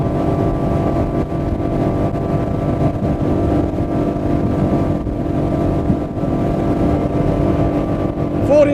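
A Dromeas 28CC motorboat runs flat out at about 40 knots, its engine a loud steady roar mixed with rushing water and wind buffeting the microphone, continuous throughout.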